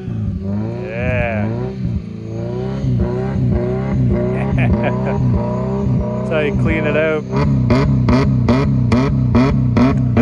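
A Subaru engine revs hard at wide open throttle after a cold start. Rising and falling revs build into rapid, loud pops and bursts, and someone speaks briefly over it.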